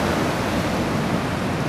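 Ocean waves breaking at Anglet beach on a surf day at high tide, heard as a steady, dense wash of surf noise with no voices.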